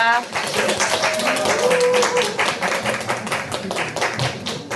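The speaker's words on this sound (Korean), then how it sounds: "큰 박수로 환영해 주시기 바랍니다." Audience applause welcoming a saxophone group performing at a neighborhood residents' assembly in Hongeun 2-dong, Seodaemun-gu, Seoul, a dense and steady clatter of many hands filling the whole stretch, with a tonal sound and some voices mixed in.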